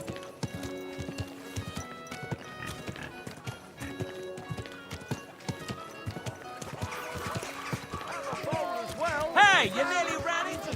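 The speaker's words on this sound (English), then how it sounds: "A good horse." Horse hooves clip-clop steadily through Kingdom Come Deliverance II over music and ambient game sounds, with a whinny rising near the end, and a few voices heard briefly.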